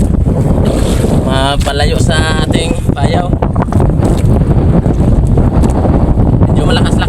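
Strong wind roars steadily at sea from a boat, constant heavy gusts and buffeting filling the whole stretch, with a voice talking briefly over it.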